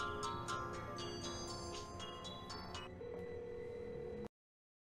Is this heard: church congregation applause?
no